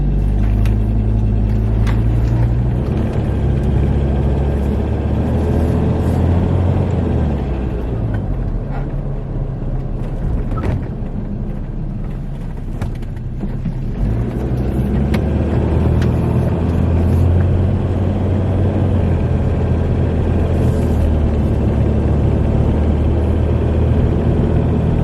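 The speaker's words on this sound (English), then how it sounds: "let's go for a drive and see what sort of figure we get with this new intercooler" A Ford Ranger fitted with a new intercooler drives up a mountain road. Its engine drones low and steady with road rumble for the whole stretch, heard from inside the cab, with a brief dip partway through.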